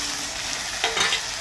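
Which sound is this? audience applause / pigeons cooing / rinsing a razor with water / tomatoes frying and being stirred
tomatoes frying and being stirred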